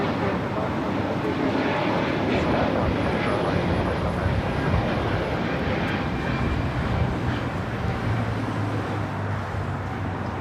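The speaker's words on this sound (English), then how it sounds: "Spirit Airlines, flight 2111 heading to Houston. A320neo now taking off." A Spirit Airlines Airbus A320neo roars steadily down the runway at LAX on takeoff, a loud, continuous broadband engine rumble that holds strong throughout with a faint tonal whine.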